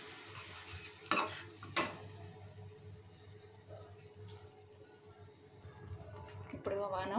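Eggplant curry simmers on low heat in a pan while being stirred, with a soft steady bubbling bed, a couple of sharp spoon knocks against the pan, and faint talk near the end.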